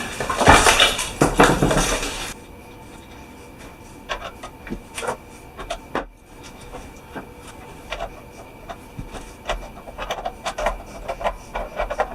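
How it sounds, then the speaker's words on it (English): Metal washers and nuts are fitted onto guitar tuning machines: a loud jingling rattle of small parts at first, then a series of light taps, clicks and scrapes of metal on the guitar's headstock. "But now we need to put on the washers and the nuts on the other side."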